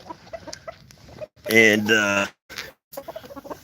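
Buff Polish chickens in a coop cluck in short close bursts, with one louder drawn-out squawk in the middle and a voice speaking briefly among them.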